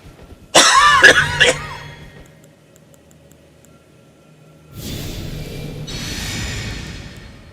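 A man coughs in a short, harsh burst of several rapid coughs up close, then quiet, followed by softer throat noises and rustling during an Elden Ring gaming session.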